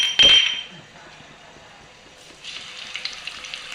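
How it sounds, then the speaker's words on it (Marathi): A sharp clink opens, then a quiet pause before hot oil starts sizzling and crackling softly around mustard and cumin seeds, with small popping bursts. "तेल तापल्यानंतर त्याच्यामध्ये मोहरी जिरं टाकलं"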